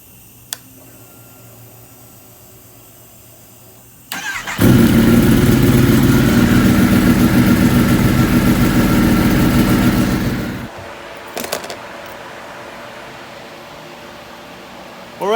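A race motorcycle fitted with standard front pipes fires up with a loud, close bark and settles into a steady, throbbing idle for several seconds before being shut off.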